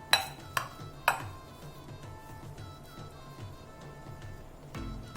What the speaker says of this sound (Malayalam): നല്ലവണ്ണം ക്രീം രൂപത്തിൽ ഇത് മാഷ് ചെയ്യേണ്ടതാണ്.